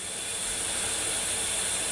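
A Ninja Foodi Deluxe pressure cooker, still hot from browning ground beef, builds pressure with a steady, faint hiss of escaping steam, continuous and even.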